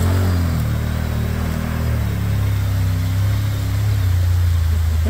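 An ATV engine drones steadily and close while the machine drives across soft ground, a loud continuous low rumble that lifts slightly in pitch partway through, with no voices.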